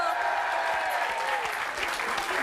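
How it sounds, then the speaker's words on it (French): A French television talk-show studio audience applauds loudly and continuously, a dense wash of clapping with faint voices mixed in. "On peut l'applaudir très fort."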